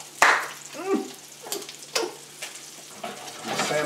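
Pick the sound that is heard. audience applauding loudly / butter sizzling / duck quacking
butter sizzling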